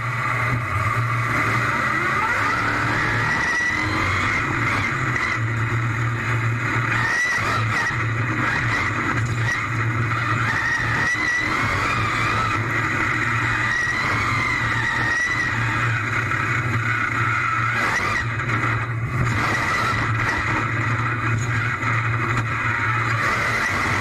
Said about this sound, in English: It was really cool seeing inside a real monster truck while it drives.